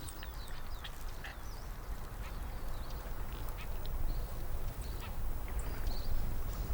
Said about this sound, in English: millions of migrating birds interrupt their journey to rest on the island